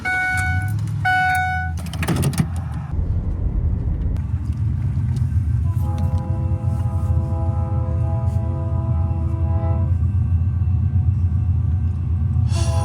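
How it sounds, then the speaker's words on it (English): A long heavy train rumbles past steadily for a long stretch, with a horn sounding near the start and a sustained tonal whine partway through. "Look how long this train is."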